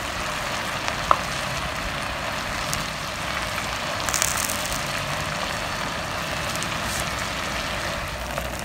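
Paper-wrapped chicken deep-fries in oil in a non-stick Dutch oven, giving a steady, dense sizzling hiss that continues without a break, with a few faint clicks.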